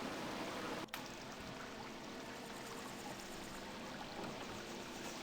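Water streams and pours steadily in Baldur's Gate as a fountain keeps flowing, a constant rushing wash broken by one brief sharp click near the start.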